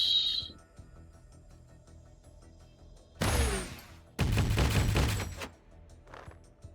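Two loud bursts of gunfire crack out, one short blast followed a second later by a longer, heavier volley that rings and fades, with quiet stretches between them.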